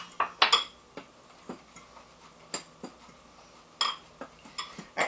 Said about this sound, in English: Just mix that in with a fork.